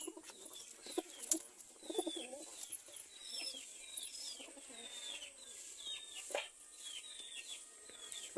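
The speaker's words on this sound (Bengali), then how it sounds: "বলছিলাম না অনেক অ্যাগ্রেসিভ কবুতরটা" A pigeon coos softly in a quiet space, several low, throaty calls spread through the clip with faint rustling between them.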